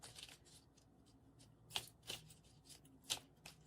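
Land Speaks oracle cards shuffled by hand, soft riffling and sharper snapping riffles in several bursts, close and fairly quiet, with no talking.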